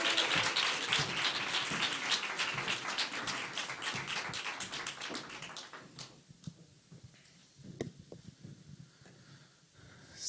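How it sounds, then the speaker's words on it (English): A keynote audience claps in a dense, sustained round of applause that gradually thins to scattered claps, with the room quieting toward the end. "Let's have another round of applause for that keynote."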